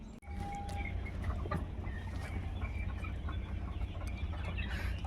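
Chickens cluck in a room crowded with many birds, scattered short calls rising over a steady, loud low rumble of background noise, with no voices present.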